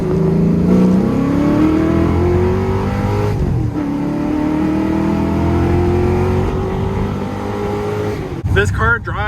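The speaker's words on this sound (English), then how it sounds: "let me give you another quick second gear pull" A 1980 Mustang Cobra accelerates hard in second gear up an on-ramp, its engine note climbing steadily and loudly from inside the car, with a brief shift near the end and a voice talking over it.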